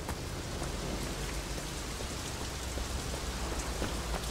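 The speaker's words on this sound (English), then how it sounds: "It's raining out here." Steady rain falls in the open-world game Sleeping Dogs, a dense, even hiss of drops on surfaces that holds at constant loudness throughout, with no voices.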